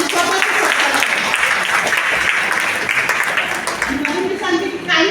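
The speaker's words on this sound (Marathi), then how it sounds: "म्हणून महिलांसाठी तुम्ही जोरदार टाळ्या मारा आणि स्वतःचा सत्कार करा." Audience at an International Women's Day program in a church hall applauding for women, steady loud clapping that fills the room throughout, with voices mixed in over the crowd.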